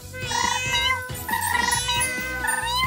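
Several cats meow loudly and repeatedly in a cozy indoor setting, overlapping plaintive calls rising and falling across the whole stretch with no talking.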